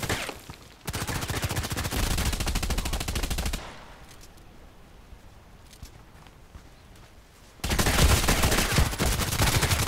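Rapid machine gun fire in a sniper video game featuring the HK417, sustained loud bursts at the start, a quieter lull in the middle, then another intense volley at the end.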